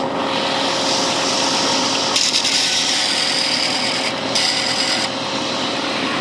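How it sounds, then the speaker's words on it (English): Homemade no-weld belt grinder grinding high carbon steel, a continuous harsh abrasive rasp close by that intensifies in two bursts as the metal is pressed against the belt. "it'd be real easy to grind a lot of metal"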